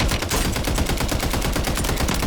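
Rapid automatic gunfire in the Warzone video game rattles continuously, dense machine-gun bursts loud and close with no pauses or speech.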